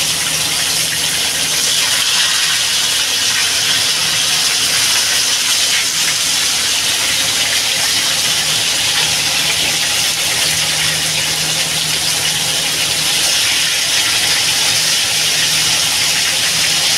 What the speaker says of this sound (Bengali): লাল লাল করে একটু ভেজে নেবো মাছটা।